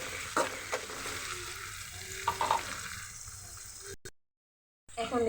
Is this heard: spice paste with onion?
yes